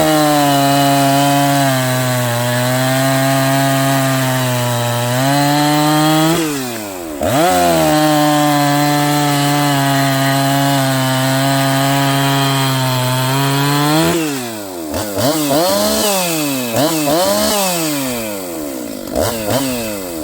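Vintage 1970s–80s Husqvarna chainsaw, freshly tuned with a new chain, cutting firewood on a hot day: a steady high, buzzing engine whine that dips briefly under load around the middle, then sputters and bogs through several revving surges near the end.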